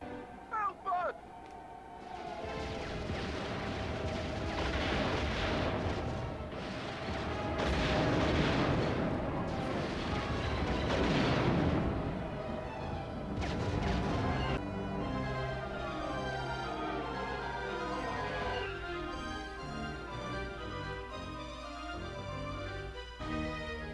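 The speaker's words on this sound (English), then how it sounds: "I'm going to show enough of what the homing torpedoes can do to show you just how overpowered they really are" Homing torpedoes explode in the Star Wars: Battle for Naboo video game, giving a run of booming, rumbling blasts over engine drone. Quieter tonal game sound follows toward the end.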